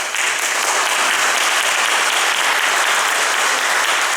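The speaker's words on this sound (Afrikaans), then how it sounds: "Kan ons vir hulle hande klap gee?" Church congregation applauding at a Sunday thanksgiving service, a steady dense wash of clapping from many hands held at an even level for the whole stretch.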